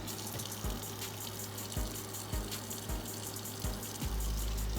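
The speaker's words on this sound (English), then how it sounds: "I just rinse them off really good with some cold water." Cold tap water running steadily over oxtails in a kitchen sink, a constant close hiss and gush with soft thumps and shifts as the meat is handled.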